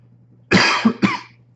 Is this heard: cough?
yes